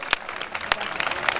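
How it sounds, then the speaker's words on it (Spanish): Lively crowd applause for a cueca dance couple at a competition, dense clapping filling the moment with a few sharper claps standing out. "Más fuerte el aplauso"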